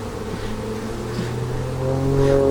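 Bees buzzing steadily in a strong hive during a nuc transfer into walkaway splits, a close, continuous drone with sustained tones that swell slightly toward the end.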